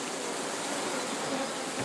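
Bees hum at the third hive body of an apiary during the linden bloom, a dense steady buzzing drone from many insects, close and continuous.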